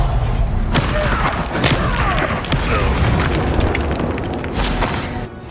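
Repeated Confringo fire-blast spells from Hogwarts Legacy boom and crackle in sharp bursts through dense, loud combat noise, with thuds and impacts scattered throughout and a battle-cry voice shouting briefly.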